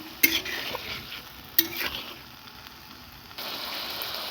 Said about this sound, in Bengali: দিয়ে দিয়েছি টমেটো কুচি আর কিছু লঙ্কার কুচি। এবার ভালো করে নেড়ে নিচ্ছি।